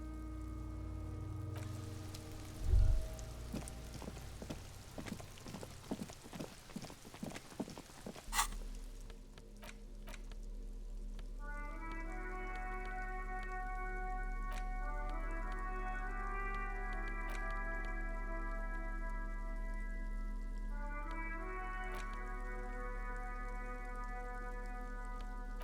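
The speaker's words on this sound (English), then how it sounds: "It's raining again." Rain patters steadily in the Disco Elysium game world, a soft continuous wash of falling drops alone under a low hum, with sparse chiming notes and an earlier stretch of sharper clicks.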